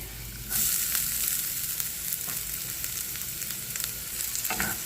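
Onion and garlic sizzling in a little cooking oil in a pan, a steady, close hiss and crackle with a few faint clinks and no voices.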